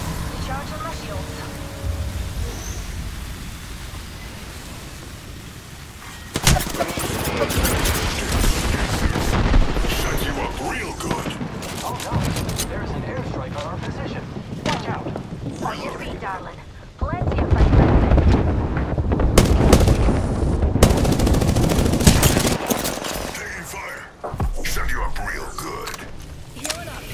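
Bursts of gunfire and impacts in an Apex Legends match, dense and loud at times with heavy booming stretches, mixed under game announcer voice lines.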